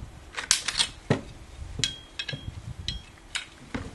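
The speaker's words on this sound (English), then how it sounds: "Pull off the bipod and the muzzle nut to the front." Metal parts of a BD42/II FG 42 rifle clack and click as the bipod and muzzle nut come off, a handful of sharp close taps and scrapes in an irregular rhythm.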